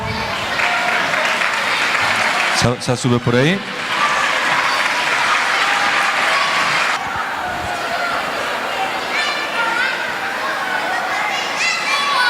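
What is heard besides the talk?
audience applause at karaoke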